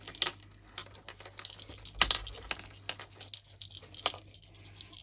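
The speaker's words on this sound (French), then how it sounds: "Et j'y ai mis 2 grelots." Small jingle bells tied on a white ribbon, giving faint scattered tinkling and metallic clinks in soft irregular bursts, quiet and close with light handling noise.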